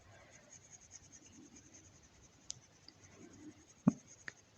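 A coloured pencil moves over paper in a steady, very soft scratching while colours are blended for an adult colouring page. It is close but faint, with a couple of small clicks near the end and no talking.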